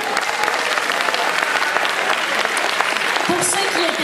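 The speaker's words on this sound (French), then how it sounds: "on l'applaudit bien fort" Loud, close applause rolls through a cosplay contest hall as a jury member is introduced, a continuous wash of clapping with a voice cutting in briefly toward the end.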